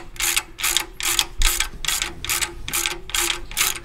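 Socket ratchet clicking in quick, even bursts, about eight strokes in four seconds, while a piece is bolted onto an old junk V8 engine; close and fairly loud, no speech.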